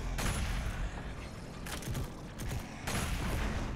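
Doom Eternal gunfire on maximum difficulty, dense rapid bursts of loud shots with booming impacts in two or three heavy waves over a rumbling low background.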